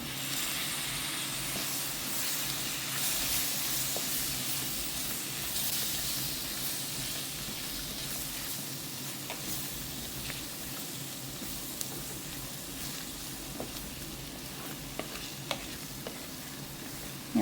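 Chopped tomato fries in spice powder in a pan for a jackfruit seed dish, a steady close hiss and sizzle running throughout with faint scattered clicks and no talking.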